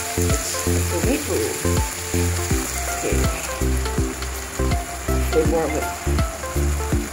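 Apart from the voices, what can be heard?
Prego tomato sauce added to a sizzling pan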